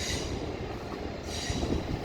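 A long high-speed train, around 16 cars, departs Paris Gare du Nord for London on the LGV Nord, with a steady, fairly loud rumble of rolling wheels and faint rail clatter throughout.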